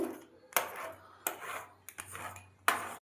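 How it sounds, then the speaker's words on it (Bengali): A knife slicing rolled paratha dough into thin strips on a board, heard as four crisp, separate cuts with short pauses between them, close and fairly faint. "পাতলা পাতলা কেটে নেব"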